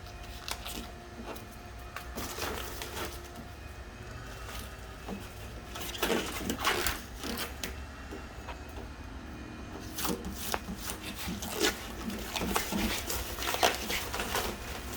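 Plasti Dip liquid wrap being peeled off an Audi A5, a continuous crackly tearing rasp with sharper bursts of ripping as strips lift away, close and steady with no talking.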